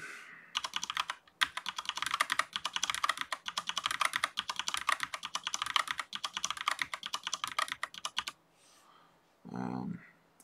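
Fast, steady typing on a computer keyboard while code is edited in the game Grey Hack, near and alone with dense key clicks, then a brief pause and a short muffled thump at the end.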